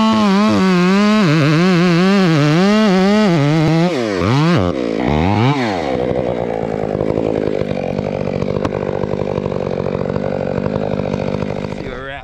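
A Stihl chainsaw fitted with a Hexa chain cuts while felling a tree, loud and close. It revs in wavering bursts, then settles into a steady, strained cutting drone before the engine drops off at the end.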